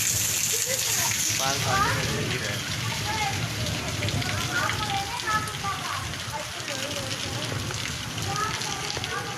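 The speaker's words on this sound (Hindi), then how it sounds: "बारिश चल रही है जनाब हवेली इलाका में गरज चमक के साथ" Rain falls during a thunderstorm over the Haveli Lakha area, a steady hiss and patter under someone talking throughout.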